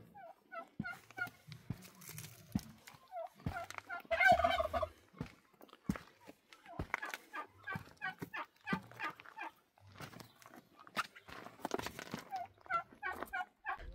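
Farmyard turkeys on a rural Mexican homestead gobble repeatedly in rapid rattling bursts, several birds calling over one another at moderate distance with brief pauses between outbursts.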